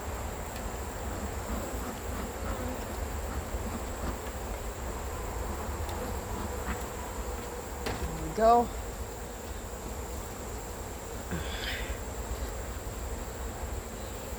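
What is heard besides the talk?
honeybees buzzing around an opened hive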